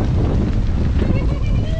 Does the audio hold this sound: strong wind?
yes